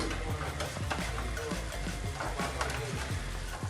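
A spoon stirring homemade pizza sauce in a pan, rhythmic scraping strokes over a soft background sizzle, close by, with a voice speaking over it.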